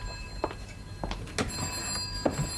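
A telephone rings in a quiet room, its bell sounding in several short bursts spaced about a second apart, with a steady low hum underneath and no voices.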